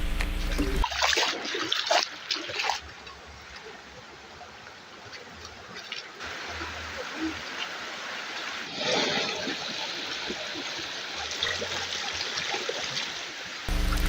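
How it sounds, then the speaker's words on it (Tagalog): A stream near Danao City rushes toward a waterfall, its water splashing and gurgling close by. Surges of louder splashing rise and fall over the steady flow. "Subayon na ninyo ang sapa o padulong na kini ngadto sa busay."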